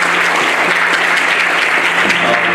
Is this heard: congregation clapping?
yes